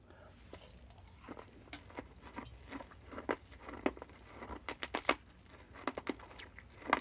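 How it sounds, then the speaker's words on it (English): Sharp, irregular crunches of hard lime-flavored candy being chewed up close, with quiet pauses between bites. "They're really super crunchy, as you could probably hear."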